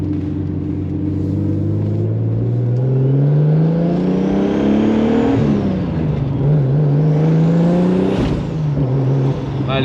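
A turbocharged BMW E36 with a twin-disc clutch revs hard and pulls through the gears, its engine note climbing, then dropping at two distinct shifts before rising again, loud and close throughout.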